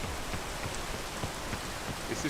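Steady rain falls in the video game Peak, a continuous hissing patter of drops with soft taps and no breaks, heard under quiet background sound.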